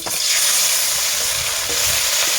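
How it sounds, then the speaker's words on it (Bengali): Puti fish frying in hot mustard oil in a wok, a loud, dense, continuous sizzle and crackle close up, with faint stirring and no talk. "কড়াইয়ের তেলটা গরম হয়ে গেছে। এখন আমি মাছগুলো দিয়ে দেবো।"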